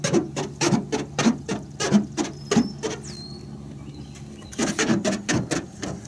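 Fingers rub across bare car paint with no wax or sealant, producing a series of squeaky, rhythmic strokes up close, a quiet pause in the middle, then another quick burst of squeaks.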